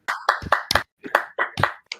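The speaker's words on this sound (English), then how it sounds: "I'm clapping for you as well." A single person claps for a speaker, sending about eight sharp, close claps in an uneven rhythm over two seconds, heard alone in a quiet room.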